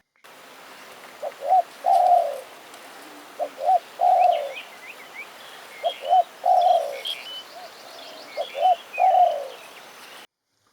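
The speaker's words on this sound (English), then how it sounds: "after the spotted dove, along came this pair of partridges" A spotted dove calls in Kaeng Krachan, Thailand, repeating its cooing phrase four times at a steady spacing, each short pair of notes followed by a longer rolling coo, clear and fairly near over faint forest birdsong.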